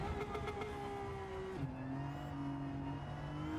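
Simulated race car engine in a racing video game, a steady loud drone with harmonic whine that drops in pitch around midway as a gear shifts, then holds a lower note.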